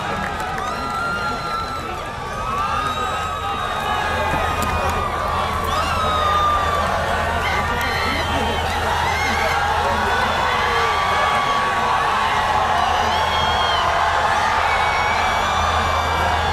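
A large crowd in a university hall cheers and chants for Imran Khan, a dense sustained roar of many voices with whoops and shouting that holds steady and loud throughout.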